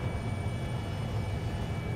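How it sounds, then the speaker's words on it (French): A military airplane engine drones steadily in the video game Battlefield 3, a faint, even hum with a thin high whine and no other sounds or talk. "Il y a un avion si tu veux pour toi."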